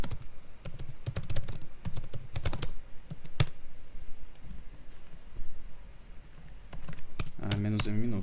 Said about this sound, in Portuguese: tô digitando tudo errado